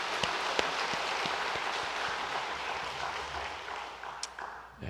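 A Korean church congregation at Gimhae Jeil Church gives the choir a round of applause during the 95th-anniversary Sunday service, a dense patter of clapping that holds steady and then tapers off at the end.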